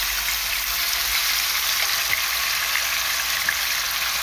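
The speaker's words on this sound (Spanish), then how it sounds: "Se va a proceder a freír el pollo." Small marinated chicken pieces, cut to about one inch, frying in hot oil for arroz paisa, with a steady, even hiss and crackle heard up close and no voices.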